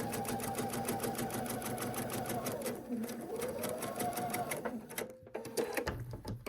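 A home sewing machine stitches the corners of a quilt block in a fast, steady mechanical whir with rapid needle clatter, close and continuous, shifting pitch slightly as it slows near the end.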